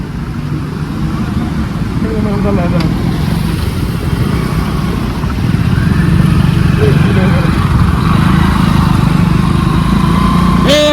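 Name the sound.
motorcycle passing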